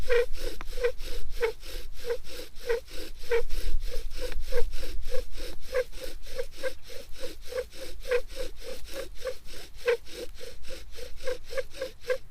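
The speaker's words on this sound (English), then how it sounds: "You just want to use your spindle, get a burn spot. You want to divot where your spindle is going to be working in." A wooden spindle is drawn rapidly back and forth against a board to make a burn spot. It gives a fast, regular rasping rhythm of dry friction strokes, close and steady throughout, with heavy breathing beneath it.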